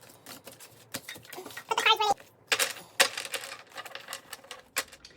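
A tarot card deck is shuffled by hand in a loose, unskilled way, giving soft papery flicks, taps and brief riffling bursts. The sounds come close and in irregular clusters, with quiet gaps between them.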